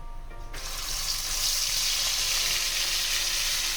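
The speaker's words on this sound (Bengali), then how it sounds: "এবার ভালো করে মশলাটা কষিয়ে নেব" Ginger, cumin and dried chilli paste hits a hot pan and bursts into a loud, steady sizzle that holds strongly and evenly after a sudden start, with no talking.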